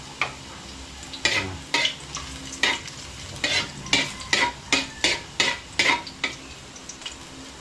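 Garlic sautés in oil over low heat in a pan for fresh pansit, with a steady soft sizzle under a regular rhythm of about a dozen scraping spatula strokes, close and fairly loud.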